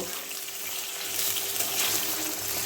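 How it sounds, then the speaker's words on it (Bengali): Softened eggplant slices fry in oil in a pan over medium heat, giving a steady, close hiss and crackle that swells slightly and holds throughout, with no voices. "আমি বেগুনটাকে ভেজে নেব নাহলে পুরো পুড়ে যাবে"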